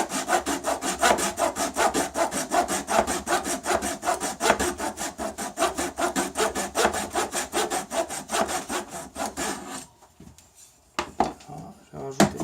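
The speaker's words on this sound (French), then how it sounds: "Et on va commencer à couper notre première frette." A hand saw cuts the first fret slot into a clamped wooden guitar neck with fast, even back-and-forth rasping strokes, loud and close, for about ten seconds, then stops, followed by a few light knocks and scrapes.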